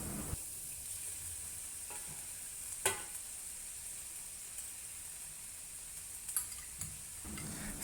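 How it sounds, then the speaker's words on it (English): Broccoli and noodles for Thai drunken noodles stir-fry in a hot wok, giving a steady close sizzle with occasional sharp scrapes and clicks of stirring, and no talking. "Continue to stir fry until the stem of the broccoli becomes soft. Next, add the noodles to the wok."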